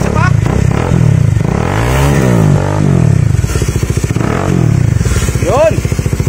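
A Bajaj Dominar 400 fitted with a Yoshimura R77 carbon exhaust and no silencer revs loudly up close, its throaty roar rising and falling through several throttle blips over a rough idle.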